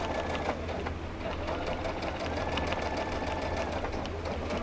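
A sewing machine stitches a burp cloth in a rapid, steady mechanical whir with a fast even rhythm, close and alone without talk.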